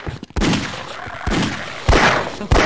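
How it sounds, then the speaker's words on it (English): Gunfire in Half-Life: Opposing Force comes in several loud, sharp bursts, each blast ringing out and decaying before the next, with short gaps between them. "Go start shooting, idiot"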